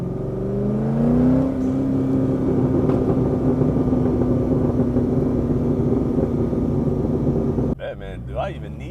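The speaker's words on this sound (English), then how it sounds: "for how much it pops on a stock exhaust, well, muffler delete, just a muffler delete, I'm actually pretty surprised." A Chevrolet C6 Corvette with a muffler delete rumbles loudly at close range, its exhaust droning with a revving rise and settle, as a voice talks over it near the end.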